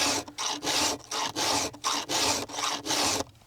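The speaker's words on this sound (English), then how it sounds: "it sucks filing chain for no good reason" A Stihl chainsaw chain filed by hand: about seven quick, even rasping strokes in steady rhythm, loud and close, with brief gaps between each pass.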